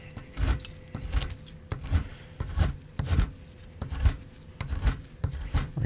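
A gouge carving a wooden Santa ornament into a torpedo shape makes a steady series of rough, scraping cuts, roughly two per second, close and fairly loud with no talking.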